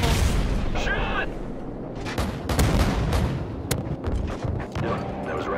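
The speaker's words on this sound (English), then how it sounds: "AC-130 is in the air." AC-130 gunship cannon fire in Modern Warfare 2, heard as loud booming shots and impacts scattered through a noisy firefight while people talk over it.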